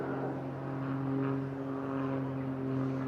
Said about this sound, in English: In this 4-point roll, DJ delicately uses the rudder to support the nose above the horizon whilst flying at 90 degrees angle of bank.